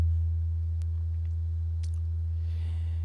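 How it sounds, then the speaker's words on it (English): A pure sine-wave bass tone from the Massive synthesizer holds steady and loud throughout, a deep continuous hum with no talk, only faint brief clicks above it. "you choose a sine wave like this, nice pure sine wave like that"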